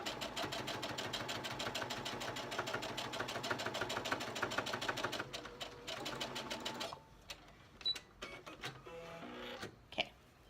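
A sewing machine stitching an exposed zipper runs in a steady, fast mechanical rhythm for several seconds, then stops, followed by a few quiet handling clicks and rustles.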